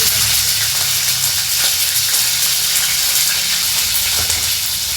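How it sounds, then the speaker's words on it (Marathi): Green chillies fry loudly in an oil-filled pan, a dense, continuous crackling sizzle that holds steady and close throughout with no voices. "मिरच्या चांगल्या परतायच्या."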